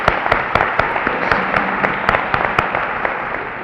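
A room of attendees at a Domestic Violence Awareness Month kick-off breakfast applauds, a steady, loud patter of many hands with sharp individual claps popping out throughout.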